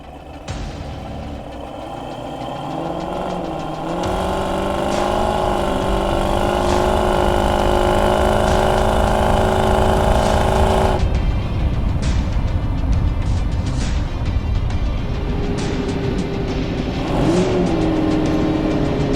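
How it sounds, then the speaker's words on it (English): A 1967 Ford Mustang GT500E Supersnake restomod drives along with a steady, loud engine note, revving up early then holding a sustained drone, with a gear or throttle change near the middle. "we've been driving for about 10 minutes now"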